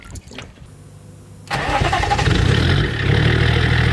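A 280-horsepower BMW TDS diesel car cranks briefly, then the engine catches and settles into a loud, rough, steady idle nearby, with quiet rustling before the start.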